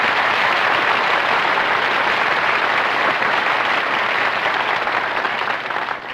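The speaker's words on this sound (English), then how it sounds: "Who's applauding you?" A studio audience claps loudly and steadily throughout a radio comedy show, a dense, sustained wash of applause that thins slightly at the very end.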